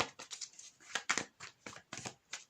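Soft, quick riffling and slapping of tarot cards being shuffled repeats in short bursts, close and quiet.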